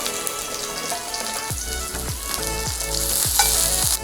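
Onion sautéing in a hot pan gives a loud, steady sizzle and crackle, close by. Regular soft scrapes of a utensil stirring it recur about twice a second, and no one talks.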